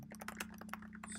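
Quick run of keystrokes on a computer keyboard, a dozen or so light clicks in fast irregular succession, close and soft over a low steady hum.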